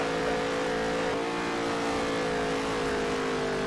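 Race car engine held at full throttle in NASCAR Heat 3, a loud, steady high-pitched drone with a strong harmonic whine that runs unbroken, close and alone.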